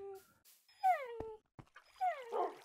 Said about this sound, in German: Hundearmee, die hier so rumsitzt und nur auf den einen gehorcht.